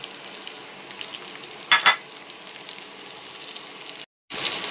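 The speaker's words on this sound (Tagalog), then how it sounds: "Igisa na natin to sa butter." Garlic and chili sautéing in butter in a pan: a steady, quiet sizzle with a short burst of scraping stirs near the middle and a brief cut to silence before the frying resumes.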